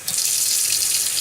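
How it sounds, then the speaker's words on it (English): Tap water runs steadily into a pan on the way to steaming cauliflower for mash, a continuous close hiss with no pauses. "All you do is add a little bit of water"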